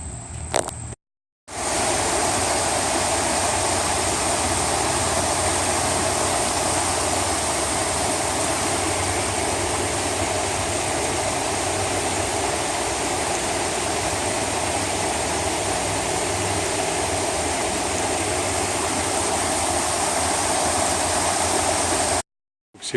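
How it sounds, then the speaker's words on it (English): Spring water runs steadily through a small trough into an old farmstead spring house in the Smoky Mountains, a continuous close, loud rushing trickle with no voices. "Water from the spring runs through here, this little trough, into there, and then into the building."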